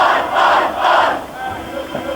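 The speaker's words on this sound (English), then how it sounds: "The crowd outside the Civic Centre now joining with the players." A crowd of Wycombe Wanderers football supporters gathered outside the Civic Centre sings together with the players, loud massed voices rising in melodic swells close by.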